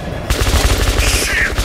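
Rapid gunfire from the first-person shooter Metro 2033 Redux, a burst of repeated shots starting abruptly and running loud and close to the end, with game ambience and a higher whine layered on top.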